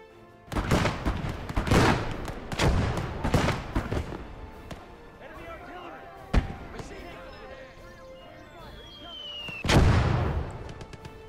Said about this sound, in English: These mortars, though.